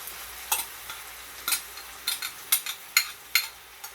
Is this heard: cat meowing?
no